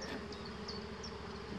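Honeybees hum inside the brood chamber of a hive, a faint, steady buzzing drone with a few brief higher whines from individual bees passing close.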